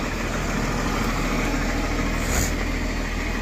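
A LiuGong machine stuck in soil idles with a loud, steady engine drone and constant rumble up close, unchanging throughout with no voices.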